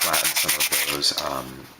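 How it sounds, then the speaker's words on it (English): Light sanding on the back of a resin terrain piece, a continuous close scratchy rubbing with steady strokes throughout, with a faint voice in the background. "you can go through and give it a light sanding on the back"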